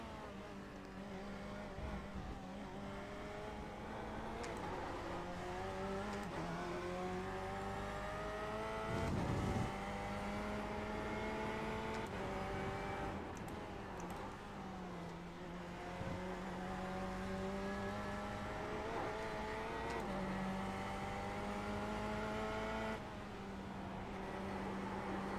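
Race car engines roar in the iRacing sim racing game, a loud, steady high-pitched whine with rising and falling gear-change pitch sweeps and occasional downshift blips, continuous for the whole stretch, with no talking.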